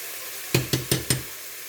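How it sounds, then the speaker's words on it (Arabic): Onion being stirred in a frying pan: four quick, evenly spaced spoon scrapes and knocks against the pan, close and fairly loud, over a faint steady sizzle, with no talking. "نخلط البصله ما تنحرقش"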